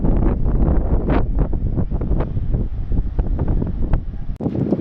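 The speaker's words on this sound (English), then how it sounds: "it's far too windy for any sea activity today" Strong wind on the beach promenade at Deauville, France, buffets the microphone in heavy, uneven gusts, a continuous roaring rumble with sharper bursts, loud and close, with no voices.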